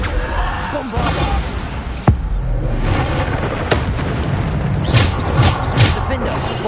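Bombarda spell explosions in the Hogwarts Legacy video game on PS5, with sharp booms and crashes cutting through a dense, loud layer of combat noise and effects, including a couple of distinct impacts.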